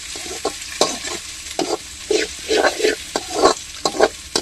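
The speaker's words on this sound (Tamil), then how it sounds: "அந்த கருவேப்பிலை எப்படி பொரியுது" Curry leaves fry in hot oil for a chicken feet gravy, crackling and sizzling close by while a spoon scrapes and stirs the pan in irregular bursts.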